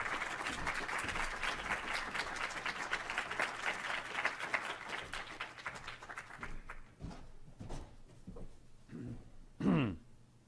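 An audience at a diplomatic event on transatlantic relations applauds to welcome the Italian ambassador, a sustained dense clapping that thins out toward the end, followed by a single brief voice sound.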